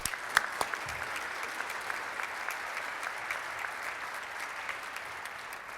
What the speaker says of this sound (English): But let's give him another big round of applause.